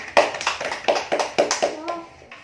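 A small classroom group claps in a brief burst of irregular handclaps that fades after about two seconds. Children's voices mix in.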